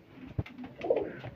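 Pigeons waiting for food in a dim house in cold weather coo softly and close by, in a few short throaty murmurs, one sharper low pulse, then a fuller rolling coo.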